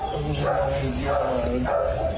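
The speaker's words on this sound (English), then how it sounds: "Dogs of all breeds and ages coming out to support the cause" Dogs of many breeds and ages bark and yip in a noisy outdoor crowd at a charity dog walk along a 4-kilometer route by the Spanish Banks waterfront, with steady background chatter and a news narrator speaking over it.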